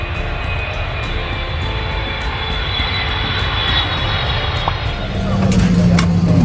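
A VietJet airliner's engines roar steadily inside the cabin as the plane begins to move, a loud continuous drone that swells and deepens toward the end.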